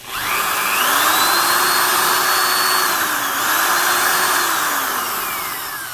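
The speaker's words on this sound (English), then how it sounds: "Milwaukee drills always sound like sewing machines." A Milwaukee 0102 1/4-inch electric drill runs steadily for the whole stretch, its motor whine holding a smooth, sewing-machine-like hum that dips briefly in speed midway before recovering, loud and close with no talk.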